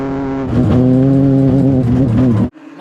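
At the Cookout Summer Shootout at America's Home for Racing, race car engines drone loudly and close, holding a steady harmonic pitch with slight rises before cutting off abruptly near the end.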